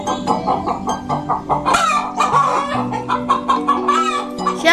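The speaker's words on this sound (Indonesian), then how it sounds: "Di sana sedang diadakan adu ayam yang ramai." Roosters cluck and crow loudly and continuously at a crowded cockfight staged in a musical drama, the busy squawks layered thickly over one another.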